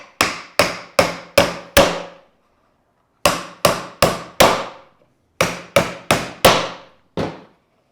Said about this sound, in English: and then I'm going to hammer it together.